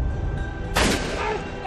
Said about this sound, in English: You took your father's shotgun.